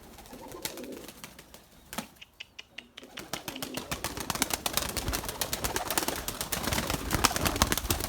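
Pigeons coo softly amid a busy flutter and scratchy clatter, with a voice briefly audible in the background.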